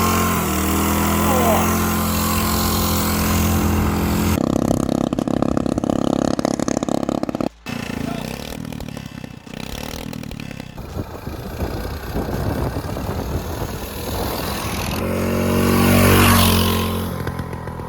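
A 196cc mini bike engine runs loud and close, revving and falling back in uneven bursts, with a brief cut-out midway before it roars up again.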